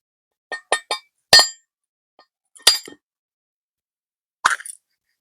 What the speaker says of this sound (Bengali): এখানে একটা নারকেল নিয়েছি ফাটিয়ে কুড়িয়ে নেব